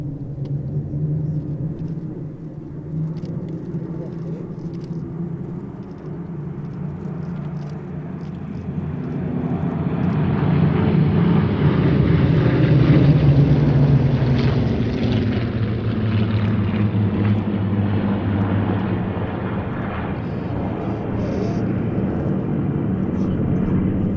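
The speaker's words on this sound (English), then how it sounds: "He's pulling back on the stick just to put a little bit more G and tighten the turn to complete this flight past" Propeller aircraft in formation flying past at Sywell Airshow, a sustained engine drone and rumble that swells louder mid-pass then holds, with a commentator's voice talking over it.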